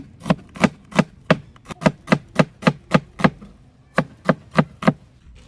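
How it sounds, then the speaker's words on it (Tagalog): A large onion being chopped with a knife on a cutting board while cooking Bicol Express chicken: a steady run of about eighteen crisp, close knife strikes, one brief pause partway through, no talking. "Ngayon naman, ito namang onion ating hiwain. Isang malaking onion yung ating gagamitin."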